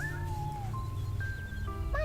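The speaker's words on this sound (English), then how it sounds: "it's worth checking back at this shrine to check on the progress of the kitty" Kitten meowing beside a shrine in the video game Shenmue, a few thin, wavering mews rising and falling over a steady low background hum, fairly near and clear.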